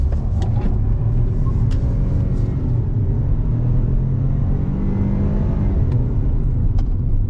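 A 2024 Ford Escape with a three-cylinder turbo engine pulls hard at full throttle, giving a steady, loud, close rumbling drone that holds with little change throughout and has no talking over it.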